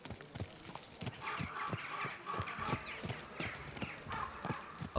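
Horse hooves clip-clopping at a steady walking rhythm in Kingdom Come: Deliverance II, a run of even, fairly quiet hoofbeats over faint ambient background.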